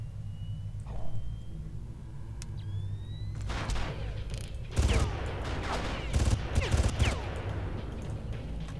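Rapid gunfire bursts from the video game Far Cry, loud and dense, with overlapping shots and mechanical clatter over a steady low rumble, intensifying in the second half.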